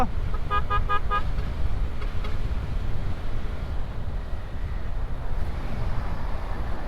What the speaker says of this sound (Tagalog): dito mag-iingat kayo sa mga malalaking truck, bus, ang bibilis ng mga yan